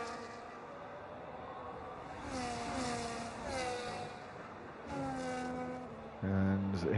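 An F1 car in an F1 racing game on the Mexico circuit, its engine note rising and falling in pitch as it approaches, fairly faint under a commentator speaking, with a louder burst at the end.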